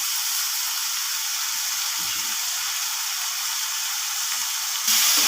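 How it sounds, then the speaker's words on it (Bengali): Soaked raw chickpeas hit hot oil in a frying pan for a vegetarian soybean dish, giving a steady, dense sizzle that swells briefly louder near the end. "ভিজিয়ে রাখা কাঁচা ছোলাগুলো দিয়ে দিলাম।"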